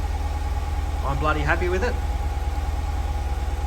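A car idles on its standard exhaust with a steady low rumble throughout, while someone talks briefly over it partway through.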